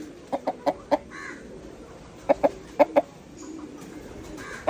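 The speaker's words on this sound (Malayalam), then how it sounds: "എട്ട് കിലോ തൂക്കമുള്ള ഒരു കോഴി നമ്മൾ കണ്ടു" An eight-kilogram, year-and-a-half-old rooster clucks in two short bursts of four sharp calls each, close by, with quiet farmyard background between.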